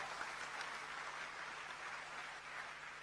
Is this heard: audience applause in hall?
yes